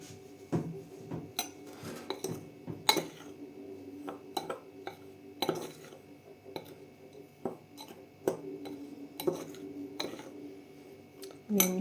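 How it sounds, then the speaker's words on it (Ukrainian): A mixture with sugar is stirred in a bowl by hand, giving repeated light scraping and clinking taps of a utensil against the dish, irregular and close. "Перемішуємо ось так з цукром."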